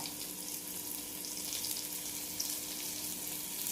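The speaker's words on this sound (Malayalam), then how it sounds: "ഈ നല്ലെണ്ണയിലിട്ടിട്ട് ഈ ചമ്മന്തി ക്രഷ് ചെയ്ത ചമ്മന്തി നന്നായിട്ട് വഴറ്റി കൊടുക്കാം" Crushed onion and chili chutney sautés in sesame oil in a pan, giving a steady, close hiss and sizzle with no talk over it.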